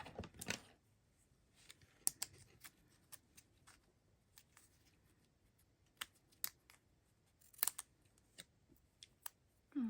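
Scissors snip in short, scattered bursts at close range while wrapping paper is cut to cover a Christmas gnome centerpiece, with quiet rustling between the snips.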